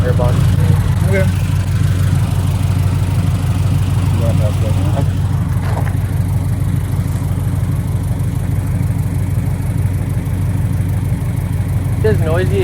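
A stanced car with its stock air box sits idling, a loud, steady low engine rumble running throughout while people talk over it at a roadside stop.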